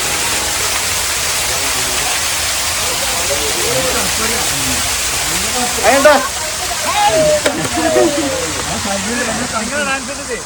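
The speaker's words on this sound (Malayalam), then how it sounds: "അത് കൃത്രിമമായ വെള്ളച്ചാട്ടം" An artificial waterfall in Hyderabad pours as a steady, loud broadband rush throughout, with voices talking over it in the second half.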